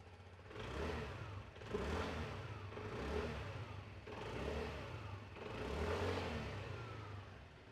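A TVS 125cc family scooter engine revved four times in a row, each rev swelling up and easing back toward idle. The engine is fairly faint and heard alone, with no talking.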